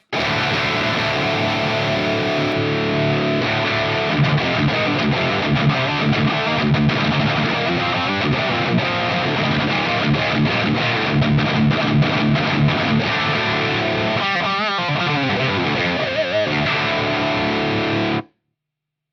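A heavily distorted electric guitar plays continuously with a buzzy, fizzy edge, loud and sustained before cutting off at the end.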